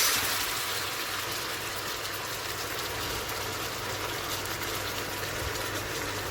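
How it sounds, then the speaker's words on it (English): Sauce collected from baking honey garlic chicken is poured into a pan, giving a steady, even wash of liquid noise that lasts the whole time without pause. "let's pour in its sauce"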